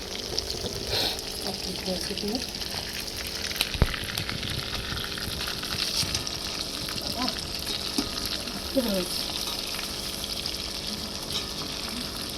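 Live snakehead fish fry lightly in a pan over a wood fire, giving a steady, dense hiss and crackle throughout, with faint voices now and then in the background.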